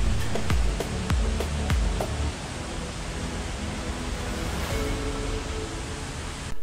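Paddys River Falls near Tumbarumba pours in a dense, steady roar of rushing water, broad and constant throughout, with a few faint clicks early on.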